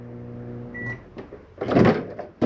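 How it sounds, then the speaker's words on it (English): A microwave oven hums steadily inside a 2018 Winnebago 30RLSS RV, its low tonal drone running for about a second before giving way to a clunk and a brief burst of louder broadband rattling nearby. "Your microwave working here."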